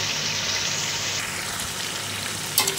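Meat braising (kosha) in a pan gives off a steady, close sizzle that holds at an even level throughout, with a brief stirring scrape near the end.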